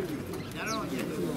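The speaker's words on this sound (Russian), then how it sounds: "Я говорю, вот голубь." A white crested pigeon coos once, close by, at a bird market in Prokhladny, while people talk nearby.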